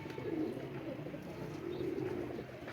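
Pigeon cooing, a homing pigeon that has flown back to its loft, two low soft coos close by over a quiet outdoor background with faint chirps.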